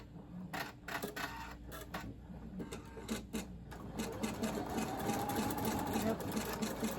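A Husqvarna Viking Designer Epic embroidery machine runs with rapid, rhythmic stitching clatter, steady and close, alongside a continuous motor hum and some intermittent clicks.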